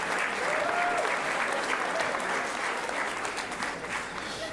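An audience at a secondary-school merit gala applauds in a dense, sustained wash of clapping that holds for the whole stretch and eases slightly toward the end.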